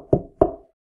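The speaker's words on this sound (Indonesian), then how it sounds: "Ia berjalan ke kuil dan mengetuk pintu." Two firm knocks on a temple door, close and evenly spaced, each with a short wooden resonance before silence.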